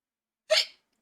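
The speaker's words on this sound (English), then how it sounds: "Ow, hiccups." A single short hiccup from a character in the video game Final Fantasy XIV, one sharp breathy gulp, close and clear against silence.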